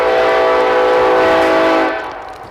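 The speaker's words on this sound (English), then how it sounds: "train's interrupting me a little" A passing train sounds its horn in one loud, sustained, multi-tone blast that holds steady and then trails off as it ends, with no talking.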